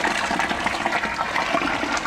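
Two litres of boiling water pour steadily into a 6-litre strawberry wine batch in a large container, a continuous close, loud gushing and splashing with no talk.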